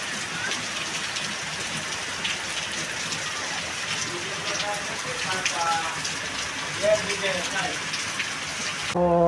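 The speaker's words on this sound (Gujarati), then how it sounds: "આજ ફાઇનલી વરસાદ આવી ગયો છે" Steady monsoon rain pours onto a village house's flat rooftop terrace, a dense, continuous hiss of drops that stays even throughout and swells slightly near the end.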